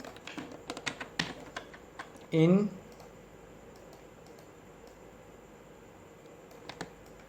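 Keys clack on a computer keyboard as text is typed into editing software, a scatter of quick clicks in short bursts with a brief hum and long quiet gaps.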